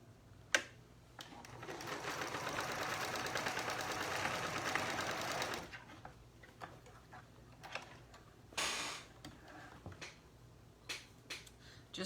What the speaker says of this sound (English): Just sewed up one side.